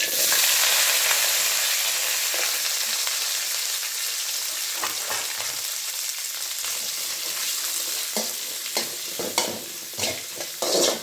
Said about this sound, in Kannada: ಈರುಳ್ಳಿ ಬಣ್ಣ ಒಂದು ಸ್ವಲ್ಪ ಚೇಂಜ್ ಆಗಿದೆ ಅಲ್ಲಿ ತನಕ ಎಣ್ಣೆನಲ್ಲಿ ಫ್ರೈ ಮಾಡೋಣ